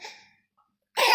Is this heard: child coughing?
yes